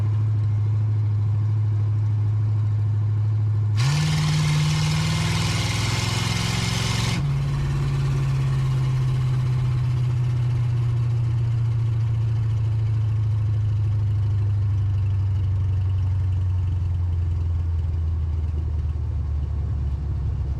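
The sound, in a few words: 1980 Camaro engine driving in second gear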